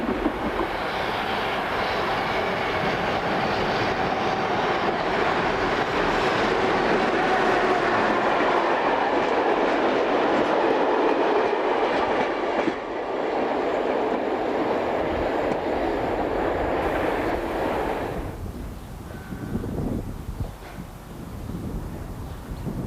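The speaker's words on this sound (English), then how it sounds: "the local railways boast a frequent passenger service, which are mainly operated using these Class 2000 electric multiple units" A Class 2000 electric multiple unit passes on a local passenger railway, its loud, steady rumble and whine filling the air for most of the stretch before falling away quickly and giving way to quieter background noise.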